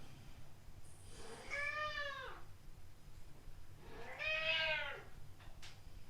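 An old pet cat meows twice nearby, two long, clear, rising-then-falling cries a couple of seconds apart over a quiet room hum.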